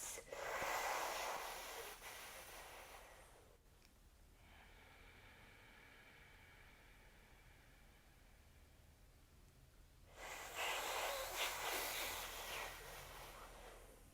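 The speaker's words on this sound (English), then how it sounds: "keeping the mouth closed, inhaling and exhaling through the nose" Yoga pranayama breathing with the mouth closed, a long forceful exhale hissing out through the nose, a quiet pause, then another strong nasal breath, close and fairly soft overall.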